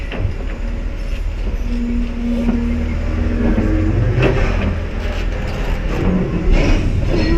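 A safari truck engine drives slowly over a rusty bridge, producing a steady rumbling drone with clanking and rattling from the metal deck, loud and continuous throughout.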